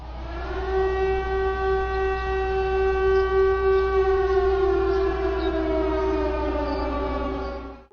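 Blaring sirens sound during a sighting of an unidentified object in the sky: one loud, sustained wailing tone that holds steady and then slowly drops in pitch, heard alone for the whole stretch before fading at the end.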